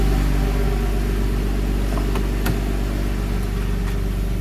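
A 2000 Porsche Boxster 986 idles steadily just after a cold start, a constant low engine drone with no pauses, close and loud, marked by a few faint clicks.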